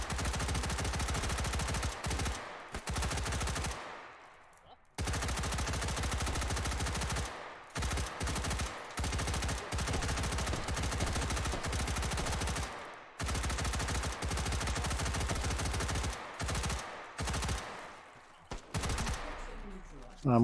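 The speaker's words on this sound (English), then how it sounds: "Taking plenty of shots for no reason." Rapid automatic gunfire from a shooter video game, dense bursts that run almost continuously with a few short gaps, loud and close with no talking over it.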